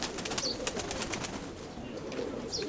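Pigeons at a keeper's loft cooing softly, a few low throaty coos repeating over faint background chirps and rustling, fairly close and quiet.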